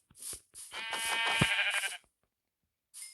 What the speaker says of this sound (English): I'm going to grab 3 pieces of wool by killing 3 sheep.